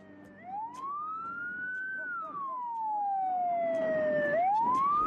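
An ambulance siren sweeps up and down in a long wailing rise and fall on a road in Bangkalan, loud and close, over the rumble of passing traffic.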